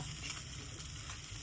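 Steady soft bubbling and sizzling from a Rohu fish curry (kolambu) with kudampuli simmering in a pot on the heat, continuous and even with no voices.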